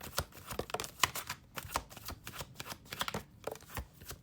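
Tarot cards are shuffled by hand in quick, irregular riffles and slaps, close and crisp, with brief pauses between bursts and no talking.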